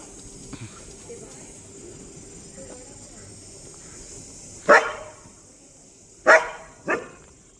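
A dog barks three times, sharp and fairly close, spaced over a few seconds against a quiet outdoor background.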